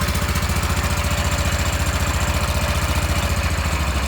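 A small Wheel Horse garden tractor engine idles steadily and close, with an even, rapid chugging pulse that holds unchanged throughout.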